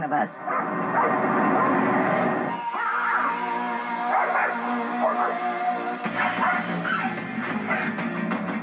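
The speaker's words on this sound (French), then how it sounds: "elle se met à couiner. Ensuite, elle se met à aboyer jusqu'à ce qu'on arrive à destination" Dog in a car whining and yipping at close range, with repeated high whimpers and short barks over a steady road hum, while a person talks at times.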